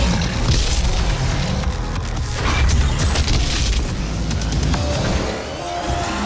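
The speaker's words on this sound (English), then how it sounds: "These shots are supposed to be penetrating shots." Penetrating shots fired in DOOM: heavy booming blasts and crunching impacts over a loud, dense game soundscape of rumble and clatter, close and forceful throughout, with no voices.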